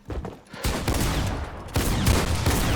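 Rapid bursts of automatic gunfire fill a Fortnite battle royale firefight, loud and nearly continuous with brief gaps, sharp shots layered over heavy booming reports.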